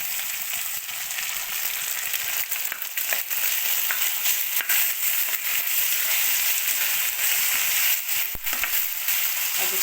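Ingredients for cabbage palya fry in a hot pan, giving a steady, dense sizzle with scattered crackles and pops that stays close and loud for the whole stretch, with no voices.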